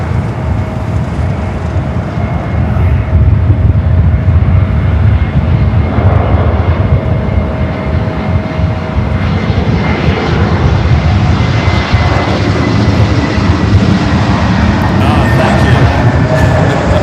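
A Lufthansa jet airliner, the Queen, passes overhead near Los Angeles with a loud, steady engine roar that holds for the whole stretch, broad and rumbling with a faint whine.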